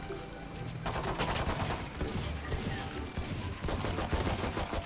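Rapid, accurate gunfire in the tactical shooter Valorant, crackling in repeated bursts over a busy background of game effects, with no talking over it.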